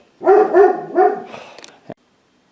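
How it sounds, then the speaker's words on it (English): A dog barks three times in quick succession, loud and close, followed by a shorter yelp-like sound and a sharp knock inside a garage. "I had to yell at the dog so he would shut up so we could actually hear the video"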